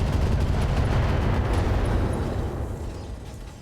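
Heavy weapons fire from a mech in the RogueTech video game, a dense roaring barrage of blasts and booms that swells loud and then slowly trails off, with no talking.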